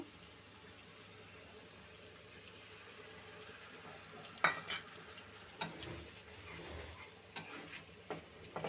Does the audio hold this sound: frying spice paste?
yes